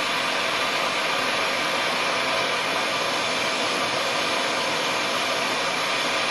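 A torch roars in a constant, broad hiss while heating the middle of a double-ended lockpick, loud and close, with no talking throughout.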